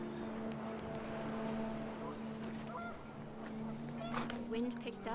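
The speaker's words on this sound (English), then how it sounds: "panicked geese appeared and quickly went" Panicked geese honk in a wind-swept outdoor scene from the video game What Remains of Edith Finch, a cluster of quick, fairly faint calls near the end over a steady windy background, with a narrator speaking.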